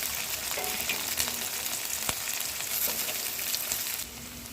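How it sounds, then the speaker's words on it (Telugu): Okra pieces fry in a kadai with a steady, close hiss of sizzling oil. A single sharp tap sounds partway through, and the hiss drops slightly at the end. No voices. "అలా వేగాక బెండకాయ ముక్కల్ని తీసి కడాయిలో వేసుకోవాలండి."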